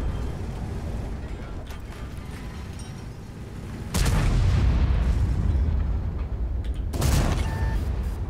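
Heavy tank gun shots from a Ho-Ri tank destroyer in World of Tanks, two loud booming blasts striking an enemy tank over a steady mechanical rumble.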